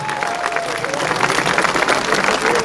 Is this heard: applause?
yes